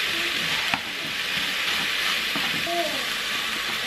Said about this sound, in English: it's high flame, so you have to move really fast when this minced beef is cooking